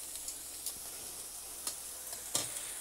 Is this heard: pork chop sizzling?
yes